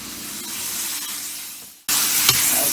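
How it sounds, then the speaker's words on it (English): Pork seared in a hot pan sizzles steadily, a muted hiss that breaks off and then returns louder and brighter with a sharp crackle near the end. "You'll see the difference when you actually take out the time to sear the meat."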